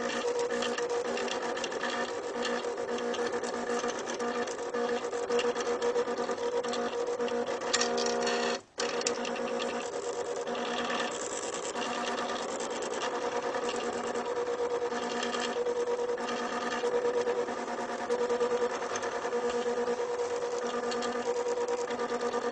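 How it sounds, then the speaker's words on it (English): Cricut cutting machine running an embossing job, a steady mechanical whir with rhythmic grinding and rubbing of the tool over material, close and continuous for the whole stretch with a brief pause partway. "all I have to do on my Cricut is hit repeat last."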